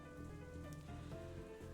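Steady rainfall patters continuously on a surface in the visual novel Katawa Shoujo, a soft constant wash over a low musical drone.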